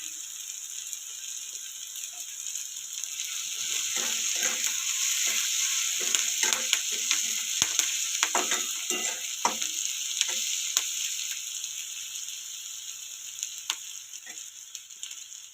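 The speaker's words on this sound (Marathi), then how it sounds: "कांदा आणि कढीपत्ता टाकतो" Onion and curry leaves frying in a hot pan, giving a continuous loud hiss and sizzle with crackles and small pops that swell in the middle and fade slightly toward the end.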